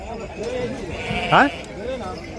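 Sheep bleat at the Gudur sheep market, with one sharp, wavering bleat standing out nearby among fainter calls while people talk in the background.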